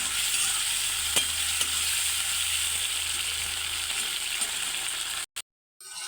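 Spices and ginger-garlic paste stir-fry in a pan for a potato-and-egg curry, a steady loud sizzle with a few spatula taps, broken by a short silence near the end.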